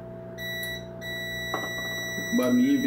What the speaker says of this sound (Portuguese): barulhinho, bipzinho, tá em curto no barramento de 12 volts aqui